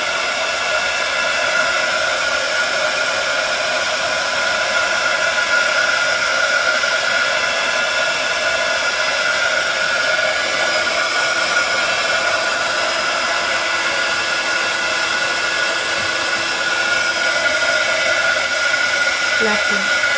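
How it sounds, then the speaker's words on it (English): A heat gun blows steadily and loudly for the whole stretch, a continuous broadband roar drying a handmade mixed media card, with no pauses or talk. "with my heat gun"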